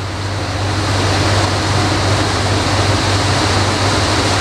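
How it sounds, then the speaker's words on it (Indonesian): Heavy rain and strong wind outside, heard from inside a sealed bedroom as a loud, steady roar of rushing noise with a low rumble, continuous throughout and without talk. "Kayaknya hujan angin deh di daerahku ya, kenceng banget loh"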